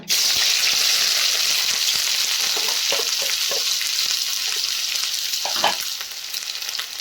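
Onions hit hot mustard oil in a pot for Punjabi-style handi paneer with a loud, sudden burst of sizzling that stays dense and steady, then eases slightly, with a few stirring clatters near the end and no talking.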